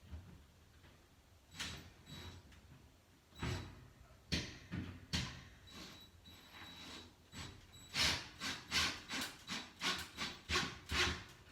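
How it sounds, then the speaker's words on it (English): Screws being driven into a wall stud to mount a pegboard, heard as a series of scraping, grinding bursts that speed into a rapid, steady run of short repeated strokes toward the end, close and fairly loud with no talking. "I can tell it's because the screws don't exactly go in very easily."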